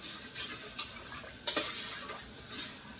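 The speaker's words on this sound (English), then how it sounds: "So I'm going to start off with rinsing my rice." Rice rinsed in water, a soft continuous swishing and trickling with gentle splashes, faint and close.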